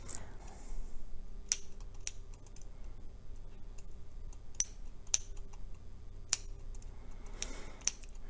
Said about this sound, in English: I am just snipping the backing of the fur.